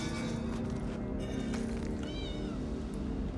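A cat pet meowing in the video game ESO: Morrowind, a couple of short, clear meows over a constant loud backdrop of game music and ambience.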